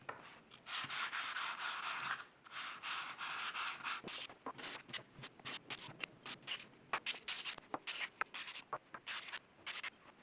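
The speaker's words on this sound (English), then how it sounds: "the bottom of each is given a quick polish with the Diamond Core Tools diamond pad" A pottery base is polished with a 200 grit Diamond Core Tools diamond pad, giving a close, steady abrasive rubbing that breaks into quick, separate scraping strokes in the second half.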